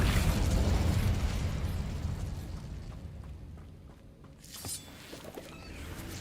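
A fiery burst from an Incendio spell cast in Hogwarts Legacy, a loud whooshing blast that fades over several seconds before a second, smaller pop and crackle.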